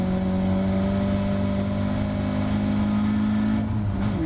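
Caterham race car at Oulton Park running at full throttle, a loud, steady close-up engine drone holding its pitch throughout, with a brief shift in tone near the end.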